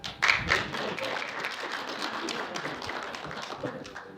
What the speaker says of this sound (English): If you can take another round of applause.